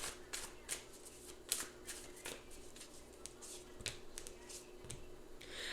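Tarot cards shuffled and drawn from a pile, a run of quick crisp riffling snaps and soft flicks at irregular intervals, close up and fairly quiet, with faint room tone behind.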